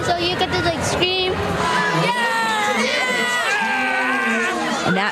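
Outdoor summer ball crowd screaming and cheering, high-pitched shrieks and shouts layered over one another, loud and close throughout with overlapping voices.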